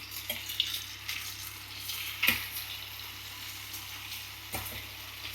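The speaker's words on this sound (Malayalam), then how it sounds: "ചിക്കൻ നമ്മളിതാ സെക്കൻഡ് ട്രിപ്പ് ഇടുന്നുണ്ട് ഫ്രൈ ചെയ്യാൻ വേണ്ടിയിട്ട്" Chicken pieces, a second batch, frying in a pan on a three-burner stove while biryani is cooked: a steady close sizzle throughout with occasional sharp scraping clicks from stirring.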